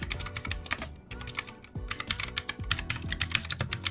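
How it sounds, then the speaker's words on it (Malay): Fast, clicky typing up close on a Fantech Atom 63 Mori Edition mechanical keyboard with blue switches, crisp sharp keystrokes in quick uneven bursts with a brief pause near the start. "ia menggunakan blue switch dan korang boleh dengar bunyi dia macam mana"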